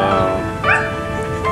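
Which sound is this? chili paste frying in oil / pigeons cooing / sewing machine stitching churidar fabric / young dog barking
young dog barking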